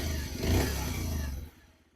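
A Bajaj Pulsar 125cc motorcycle engine starts up. A close, low, throaty idle rumbles steadily for about a second and a half, then drops away quickly.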